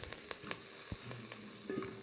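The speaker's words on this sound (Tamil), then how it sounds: "கருவேப்பிலை சேர்த்து ஒரு வதக்கு வதக்குங்க" Onions and curry leaves frying in a pan for lentil sambar, a soft continuous sizzle with a few sharp crackles and pops near the start, fairly quiet and without talk.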